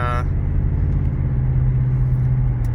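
A car engine idles and runs with an exhaust leak, giving a steady, loud, low rumble throughout with no breaks.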